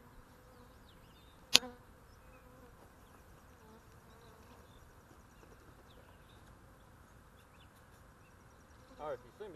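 A honey bee swarm hums on a pine tree, a faint, steady buzzing drone throughout, broken by one sharp click early on and a brief louder rustle near the end.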